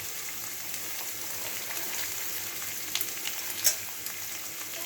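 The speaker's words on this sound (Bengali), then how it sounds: "একটু হালকা ভেজে নেব।" Finely shredded carrots and beans fry in a pan with a quiet, continuous sizzle, broken by a few soft stirring clicks near the end.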